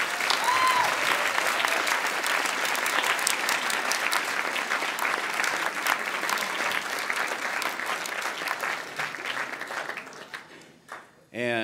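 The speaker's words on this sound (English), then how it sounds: "One more round of applause for that, eBoard." An audience at a band banquet breaks into loud, sustained applause for about ten seconds, dense and even throughout before tapering off at the end.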